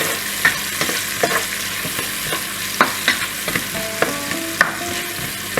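Garlic and onions fry in a pan for a Greek pastitsio, a loud close sizzle with scattered sharp clicks and stirring knocks from a utensil against the pan, no talking over it.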